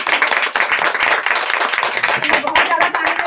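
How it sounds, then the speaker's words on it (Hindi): Loud, dense clapping from a gathered audience welcoming a guest speaker at an event at a herbal store, a steady burst of many hands sustained throughout. "तो एक बार जोरदार तालियां करके"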